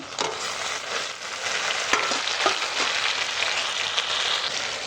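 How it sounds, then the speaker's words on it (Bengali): Catla fish fat drops into hot oil with onion and chilli in a home kitchen, sizzling and spattering loudly and continuously, broken by a few sharp crackles and pops. "কাতলা মাছের তেল পটকাটা ভাজা হচ্ছে"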